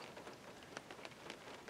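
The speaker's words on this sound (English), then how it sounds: "I don't need to be out here in the rain" Steady rain falls outdoors, a soft, faint patter of drops landing on surfaces with no other sounds.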